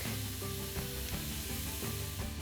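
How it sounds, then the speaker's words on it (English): Onions cooking in a pan with garlic for a vegan moussaka, sizzling steadily with a dense, constant frying hiss and faint stirring clinks, close and continuous with no talk. "We're gonna cook this until the onion is translucent."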